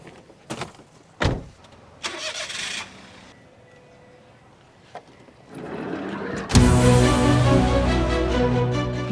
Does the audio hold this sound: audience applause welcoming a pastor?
no